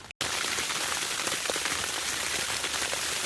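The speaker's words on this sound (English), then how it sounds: "now we're looking at just like pure freezing rain or sleet, something of that nature." Freezing rain or sleet falling steadily on an icy April day along the Appalachian Trail, a dense continuous patter of drops close by, broken only by a brief dropout at the start, with no talk.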